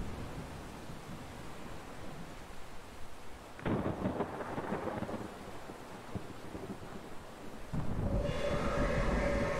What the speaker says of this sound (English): Got some serious storm activity now.